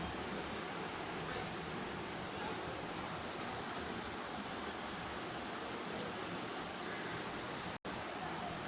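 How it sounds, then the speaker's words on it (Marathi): Curd kadhi boils vigorously in a pot over a high flame, giving a dense, steady bubbling and hissing roar close by, broken by one sharp dropout near the end. "हे बघा, छान अशी उकळी आलेली आहे"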